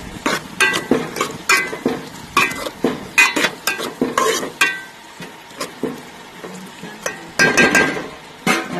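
A tomato and green chili curry stirred in a pan: repeated rhythmic scraping strokes with metallic clinks of spoon on pan over a faint sizzle, close and fairly loud, with short pauses between bursts.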